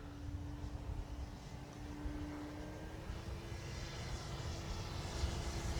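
Arrows RC Bigfoot model airplane on a maiden flight over a grass field, a faint steady electric motor whine holding one pitch over soft wind noise.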